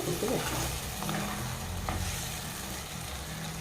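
Spinach and tomato curry cooks in a pan, a soft, continuous sizzle mixed with the scrape and shuffle of stirring, close and fairly quiet.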